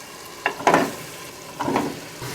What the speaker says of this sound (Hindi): मसाला अच्छी तरह से भुन चुका तो मैं इसमें डालूँगी पाए